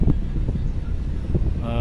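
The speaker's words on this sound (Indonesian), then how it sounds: "Sementara angin lumayan ya" Strong wind of about 20-30 knots gusting across a ferry port pier at Bakauheni, with a ferry trying to dock; low rumbling buffeting on the microphone throughout, with faint mechanical hum from vessels.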